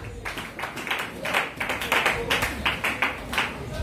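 Congregation at a church sermon claps together in acclaim of the word of the Lord, a fairly steady run of overlapping hand claps at moderate loudness, with no speech over it.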